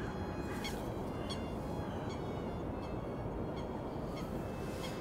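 Coots call from a lake, giving faint, distant, repeated short honking notes at irregular intervals over steady wind-like background noise.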